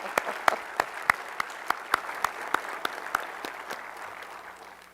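Audience applause at a Space Center Houston event honoring Apollo 17 legends and Artemis leaders: scattered but steady clapping from a fairly sparse crowd, individual sharp claps standing out, sustained through the moment without speech.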